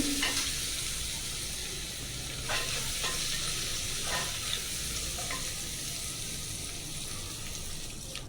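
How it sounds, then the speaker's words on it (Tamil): Chopped onion and capsicum sauté with salt in a pan, a steady broadband sizzle with several brief scraping stirs against the metal, close and continuous with no talking. "உப்பு ஆட் பண்ணும்போது நம்ம வெங்காயம் இந்த குடமிளகாய் சீக்கிரமாக வதங்கிடும்"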